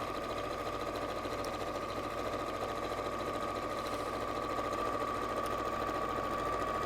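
A sewing machine stitches steadily round a rectangle on a panel tee or pleated tote bag, its close, even, rapid whirring unbroken throughout.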